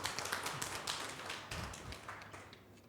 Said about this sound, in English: Can we give her a warm round of applause?